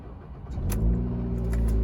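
A Ford Focus engine with 170,000 miles turns over and catches, settling into a steady, close idle hum with a slight rev.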